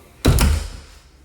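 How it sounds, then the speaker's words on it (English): The back door of a house swings shut with a single solid thud, followed by a short fading rattle and then quiet. "So the door works, it's just gotta be painted."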